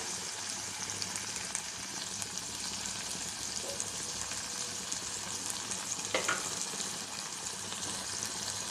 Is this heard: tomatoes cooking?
yes